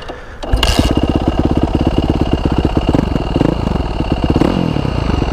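A Beta 500 RS dirt bike with an FMF PowerCore 4 exhaust fires up and revs hard up close, its exhaust crackling with rapid pulses and a couple of sharper throttle blips.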